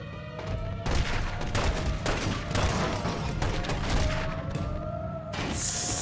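Gunfire from The Godfather video game, with repeated loud gunshot bursts and booms crowding together over a constant background of game noise and a rising whine. The shots are close and dense, and the end is brighter and hissier.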